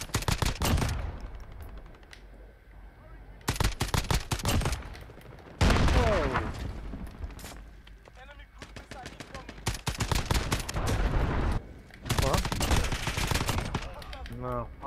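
Rapid bursts of FAL rifle fire in a video game, several volleys of sharp shots separated by brief pauses, loud and close, with faint game sounds between bursts.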